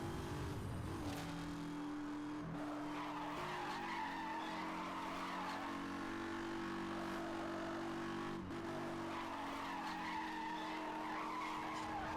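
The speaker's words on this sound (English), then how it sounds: "Perform a brake drift" In Need for Speed Hot Pursuit Remastered, a car brake-drifts with a sustained tire squeal over a droning race engine, the skid holding steadily through the clip with brief shifts in pitch.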